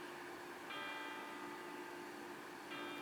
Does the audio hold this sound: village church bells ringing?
yes